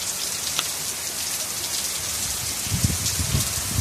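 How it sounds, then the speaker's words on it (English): Heavy rain pours down in Potsdam, a dense continuous hiss of drops on surfaces with a few heavier splatters near the end. "this is the rain"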